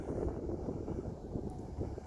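Wind buffets the microphone at a lakeside campsite at Puddingstone Lake in San Dimas, a steady low rumble with soft gusting swells throughout and no voices.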